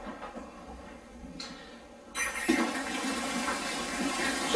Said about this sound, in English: Right, so now we need to top up with water